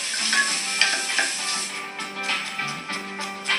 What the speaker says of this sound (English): I cook that until the onions are translucent